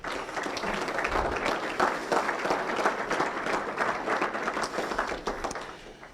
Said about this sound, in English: let's give a round of applause for all of our student athletes